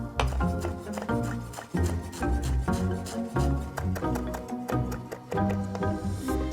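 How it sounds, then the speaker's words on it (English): Knife rapidly chopping fresh parsley and dill on a board, a steady run of close, crisp thuds with dense rhythmic repetition throughout, no talking. "And we'll finally chop."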